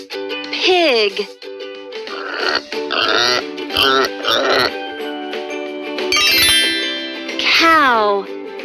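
A cartoon pig grunts and squeals in a bright, exaggerated voice, several rising and falling calls spread across the clip, loud and close with a musical backing underneath.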